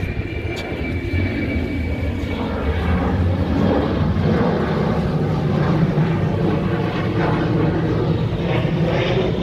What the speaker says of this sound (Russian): Первый самолет за неделю вижу.